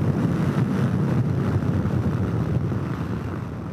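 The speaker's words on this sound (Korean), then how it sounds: "오늘 바람이 많이 부는데 트랙을 주행을 하다 보니까" Strong wind roars across a race track during a ride on a 2022 Yamaha TMAX 560 scooter at Taebaek Speedway, a steady low buffeting rumble with no break.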